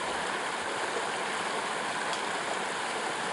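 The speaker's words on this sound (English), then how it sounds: "How do you rate my river crossing?" A river on the Pacific Crest Trail rushes and flows, a steady close broadband wash of water with no voices.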